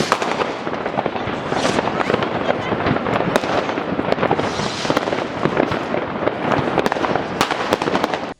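New Year fireworks over the Rhine in Bonn, Germany: a dense, continuous barrage of crackling bursts and pops, loud and unbroken, with faint crowd noise beneath.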